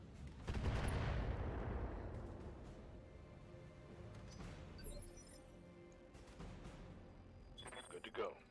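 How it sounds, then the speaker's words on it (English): An ammo explosion on a mech in BattleTech, a loud close blast that booms and then fades into a long rumbling decay, followed by quieter crackling and a final clatter. "Ammo explosion."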